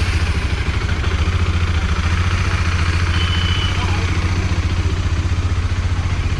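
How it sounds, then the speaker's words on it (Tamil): A motorcycle engine, just started after an engine oil change, idles with a steady low, rapid putter and slight mechanical clatter, running close by at an even pace. "ஆஃப்டர் இன்ஜின் ஆயில் சேஞ்ச் பண்ணதுக்கு அப்புறமா ஸ்டார்ட் பண்றாங்க."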